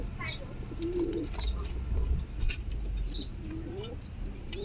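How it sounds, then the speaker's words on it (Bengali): Blue satin pigeons coo in a low, rolling murmur, with a couple of clear coo phrases over a constant hum and faint chirps nearby. "দেখুন কত সুন্দর কবুতর"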